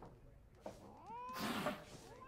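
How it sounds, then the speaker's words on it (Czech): A cat meows in The Witcher 3 video game with a rising, wavering call partway through, then a louder burst of noisy game sound follows. "Co tady ta kočka na mě furt cíčí?"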